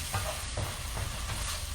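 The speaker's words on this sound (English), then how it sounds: "Just give those a stir" Onions sautéing with salt in a hot pan, a steady close sizzle with a few soft stirring scrapes.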